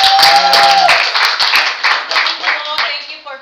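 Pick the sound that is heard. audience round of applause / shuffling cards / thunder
audience round of applause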